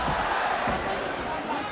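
Crowd noise at a PRIDE FC mixed martial arts bout, a steady roar of an arena audience reacting to an exchange between fighters, dense and continuous with commentary voices mixed in.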